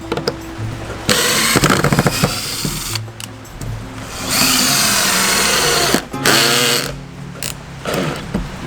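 A Jaya JPD-126 cordless drill drives screws into wood, giving several loud whirring bursts of a second or two each, separated by short pauses, with no talking.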